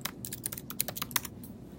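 Fingers type on a computer keyboard while writing a new Google Docs document, a close, quick series of crisp, uneven keystrokes with brief pauses and no speech.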